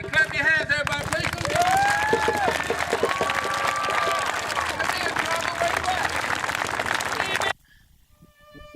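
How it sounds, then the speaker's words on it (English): Loud audience applause and cheering fill a hall for several seconds, a dense steady roar of many hands and voices that cuts off abruptly near the end, leaving quiet room sound. "Everybody, clap your hands, everybody,"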